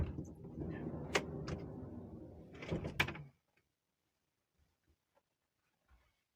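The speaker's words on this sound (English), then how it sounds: "Open the door." Door of a Nissan NV400 campervan opening, with sliding and clunking thuds over rustling handling noise, then near silence with a few faint taps.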